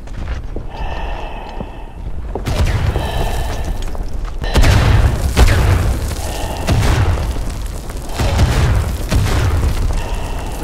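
Mortar shells explode in a Verdun World War I battle, a run of heavy booms landing one after another, loud and close, with gunfire and battlefield noise filling the gaps.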